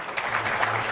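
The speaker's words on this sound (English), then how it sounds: "Give them a round of applause." An audience at a tech conference in Santa Clara gives a brief, moderate burst of applause that holds steady through the short moment.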